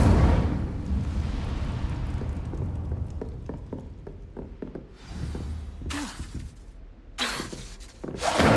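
Fire spell cast in Hogwarts Legacy, heard as a run of booming, crackling bursts with sharp impacts, ending in two loud whooshing flares near the end.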